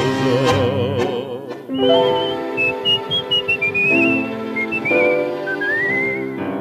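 A melodic whistled tune in a tango, with wavering notes and short phrases over a soft instrumental backing, clear and close.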